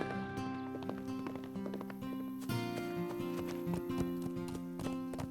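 A wild horse walking, its hooves clip-clopping in an irregular rhythm under a layer of background music, with no voices.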